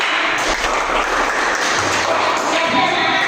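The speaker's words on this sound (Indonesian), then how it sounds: "Tepuk tangan." A classroom audience claps for a student group after their presentation, a dense, steady burst of applause that lasts throughout without speech.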